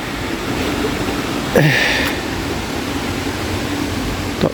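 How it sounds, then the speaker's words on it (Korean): Steady rushing of stream water at Daericheon with a small waterfall below, a continuous broadband wash heard close, with a brief louder splash partway through. "대리천의 물소리입니다"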